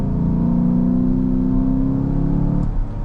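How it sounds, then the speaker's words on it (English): A 2018 Chevrolet Silverado Harley-Davidson pickup accelerates, its engine and air intake producing a loud, steady droning roar heard from inside the cab, easing off briefly near the end. "Feel that air intake, you can hear it."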